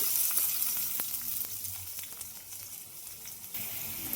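Onions hiss and sizzle steadily in hot oil with cinnamon, cloves, bay leaf and green chillies for chicken sherwa, the broad frying noise broken now and then by soft spoon scrapes as they are stirred.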